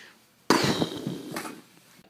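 Cartoon missile launch effect: a sudden loud burst that kicks in after a short quiet lead-in, then a sustained whooshing, crackling rush that slowly tapers off.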